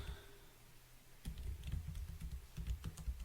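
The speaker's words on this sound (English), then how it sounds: "I'm typing what I'm saying." Typing on a computer keyboard while setting a border radius in web design code, with a quiet stretch then a steady run of close, crisp key clicks, some louder taps standing out, no talking.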